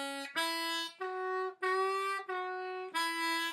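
A harmonica plays a Chicago blues shuffle walking bass line on single holes in five separate notes, some draw notes bent. It sounds close and clear and carries no talk.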